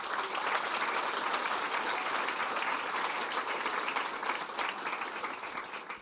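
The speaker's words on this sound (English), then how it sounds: "Let's give them a big round of applause" A large audience at a corporate electric-vehicle event applauds the drivers, a dense, sustained wash of clapping that stays steady and fairly loud throughout, with no voices standing out.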